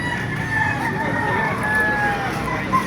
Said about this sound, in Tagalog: Ang dami mga manok dito, mga malalaking manok, Ruby,